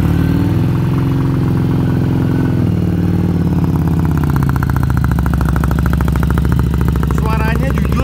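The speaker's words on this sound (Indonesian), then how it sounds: "Sekarang kita dengar suaranya" A Harley-Davidson Street 500 motorcycle engine idling: a loud, smooth, continuous low rumble that steadies into a faster, even throb, with a voice briefly in the background.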